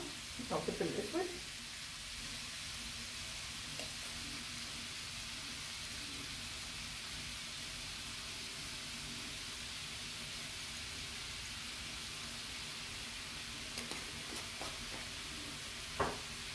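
Minced meat fries in a pan with black pepper and meat spices, a soft continuous sizzle with occasional stirring clatter near the start and end, quiet and close.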